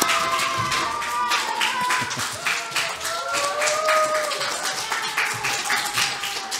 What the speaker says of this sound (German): Noch einen großen Applaus.